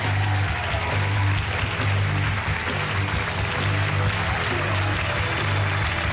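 Sustained audience applause fills a French television studio during the evening show "Identités", steady and dense throughout with no voices breaking through.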